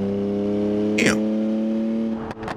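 A car engine in the BeamNG.drive driving game holds a steady, loud drone, then its pitch shifts as the automatic gearbox downshifts under acceleration, with a brief whooshing sweep in the middle and a sharp change near the end.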